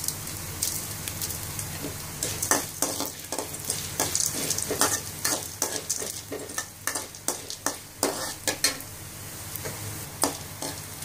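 Coriander seeds and spices fry in a pan for stuffed brinjal, a constant sizzle broken by dense crackling pops and spatters and the scrape of stirring, with no talk.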